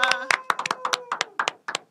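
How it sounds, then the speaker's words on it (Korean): Studio audience on a Korean talk show gives a short burst of clapping to welcome a guest lawyer, a few distinct hand claps close by while a host's voice carries over the top. "자, 박수."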